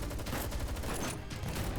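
Sustained gunfire from a GFL2: Exilium cutscene during an escape through a pitch-black alleyway, a dense, continuous rattle of shots that fills the whole stretch at steady loudness with no pauses.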